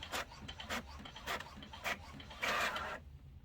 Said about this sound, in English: And we use the HP 9010 series printer.